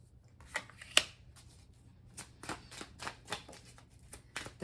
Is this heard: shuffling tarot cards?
yes